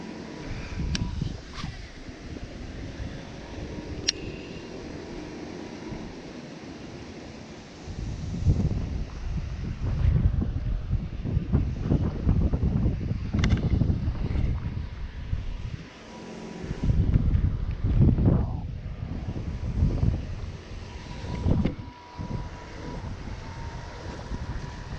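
Heavy wind buffets the microphone beside a golf course pond in Wellington, Florida, a continuous loud rumble that swells in strong gusts around the middle and end, with faint rustling under it and no talk.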